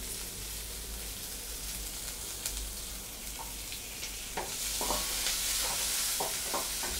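Shallots sizzle and fry steadily in a pan for a Tamil dal gravy, with a few sharp spatula scrapes and stirring clatters near the end and no voices.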